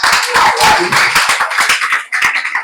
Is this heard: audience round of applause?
yes